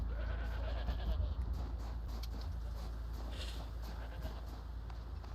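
Goats bleating in the Horizon video game, several cries standing out over a constant low rumble and wind-like background, fairly faint and spread across the scene.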